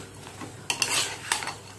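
Coriander and cumin masalas are stirred into mutton in a pot. A spoon clinks and scrapes against the metal in two short bursts over a quiet background.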